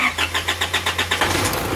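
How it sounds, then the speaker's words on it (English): A car engine cranks with rapid rhythmic starter pulses after an intake cleaning spray, then catches and settles into a steady idle, heard close and alone. "then we start the car and let have it run for a little bit"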